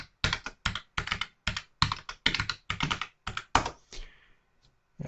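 Quick bursts of keystrokes on a computer keyboard, a brisk irregular rhythm of clustered taps close up, then a short pause and one final key press.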